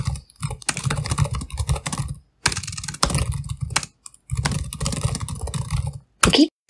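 Rapid keystrokes clatter on a computer keyboard while code is typed, coming in dense bursts of a second or two separated by short pauses, close and clear with no talking.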